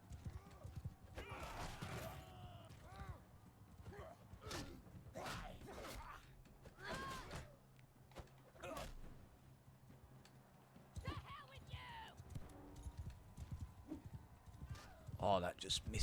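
Horses galloping in the video game Mount & Blade 2 Bannerlord, with repeated hoof clip-clops, occasional whinnies and whooshing attacks rising and falling in bursts, while someone talks over the action.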